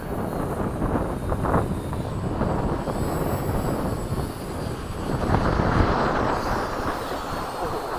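A Hobby King Avios 90mm MiG-17 model jet comes in to land at a flying field, its ducted-fan whoosh steady and fairly loud, swelling slightly as it passes near.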